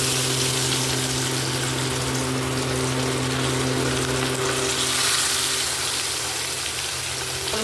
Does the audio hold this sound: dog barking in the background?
no